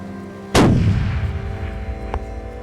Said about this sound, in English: the bullet cut through the air on the animal's brisket